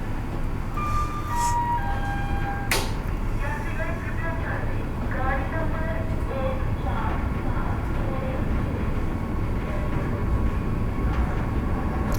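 Vande Bharat Express train pulling out of Alwar station and picking up speed, a steady low rumble with a brief bright burst near the start and faint tonal whines, under continuous talk.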